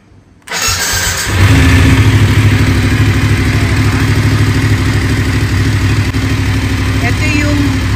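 Voge 900 DSX touring motorcycle being started: a brief starter whir after quiet, then the engine catches and settles into a loud, steady, close idle.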